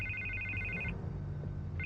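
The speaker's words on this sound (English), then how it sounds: "I can't get the phone to stop ringing." A telephone rings in the Batman Telltale video game, a steady electronic trill that stops partway through and starts again near the end, over a low background drone.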